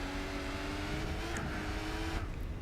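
Jaguar race car engine in Gran Turismo 4, a sustained droning roar holding a steady pitch at speed, loud and continuous throughout, without talk.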